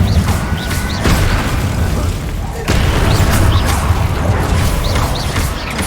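A fire spell blasting in Hogwarts Legacy, heard as a loud, dense roaring burst that carries across the whole clip, with a sharp new surge midway and bright crackling flickers on top.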